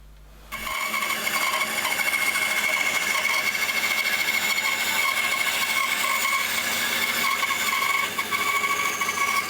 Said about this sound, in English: it's back to the bandsaw and cut it on the other side